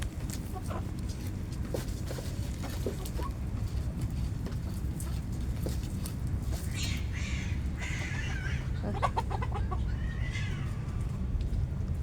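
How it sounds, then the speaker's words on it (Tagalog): Cats fighting at a distance outdoors, with a few faint yowls and squalls breaking through a steady low background rumble, mostly in the second half. "May pusa pa doon, nag-aaway."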